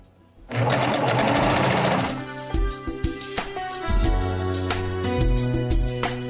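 Sewing machine stitching lace on lingerie panties, loud rapid mechanical whir from start, then rhythmic chattering stitches with short pauses and restarts, close up.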